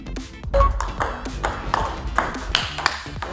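A table tennis ball struck with Dignics series rubber, giving a series of crisp, close ping-like hits in a quick rally rhythm, several knocks over a few seconds.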